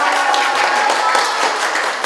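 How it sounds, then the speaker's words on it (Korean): Schoolchildren clapping together in an elementary school classroom, a continuous wash of small hands held steady and even for about two seconds with no talking over it. "박수 부탁드립니다."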